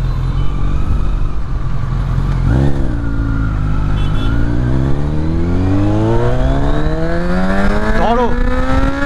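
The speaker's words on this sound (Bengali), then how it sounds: "100-র উপরে চলছে আমাদের বাইক।" A Kawasaki Z900 inline-four motorcycle screams along an open road at over 100 km/h, its engine note climbing steadily through the gears with quick dips at each shift, loud and continuous under constant wind rush.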